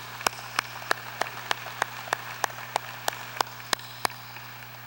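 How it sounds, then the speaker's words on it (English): Slow, evenly spaced claps ring out at a graduate commencement ceremony, sharp single hand strikes about three times a second over a steady electrical hum, with no dense crowd roar. "Please join me in recognizing these university leaders with a round of applause."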